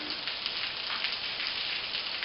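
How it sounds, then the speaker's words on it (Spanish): Steady rain falls in a valley of the Rio Grande region, a continuous soft hiss of drops on surfaces with no talking, even and unbroken throughout. "Pues sí, pero se vino el agua."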